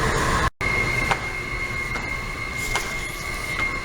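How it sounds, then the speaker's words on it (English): A steady hum fills the Dupont metro station in the Washington subway, with a sustained tonal whine from trains and equipment, brief knocks and a short dropout, and no one speaking. "This is the Dupont metro station."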